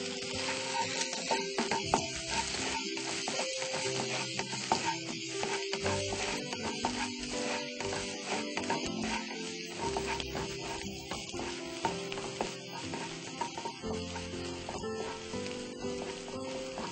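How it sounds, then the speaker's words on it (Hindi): Onions fry in hot oil in a pan, a faint, steady sizzle with patter and occasional stirring clinks running throughout, with no talk. "और अब हम डालेंगे इसमें प्याज। प्याज को हम बिल्कुल लाइट ब्राउन करेंगे।"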